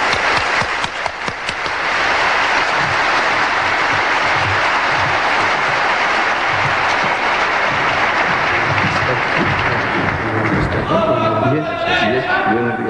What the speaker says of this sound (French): nous allons applaudir notre grand invité, Cheikh Ahmed Didat.